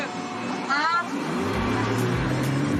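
A Porsche 911 3-litre historic rally car, specially prepared, launches from a stage start in Morocco, its engine note swelling into a loud, deep, rising roar after a brief voice near the beginning.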